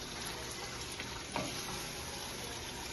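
Two kilograms of chicken fry quietly in a pan for a chicken curry, giving a faint, steady sizzle with one small clatter partway through.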